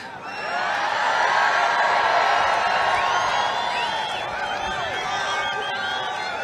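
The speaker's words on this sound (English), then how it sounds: "What a crowd." A large crowd at a Trump rally in Freeland, Michigan cheers and whoops continuously, a loud sustained roar with scattered shouts and whistles that swells and then holds steady.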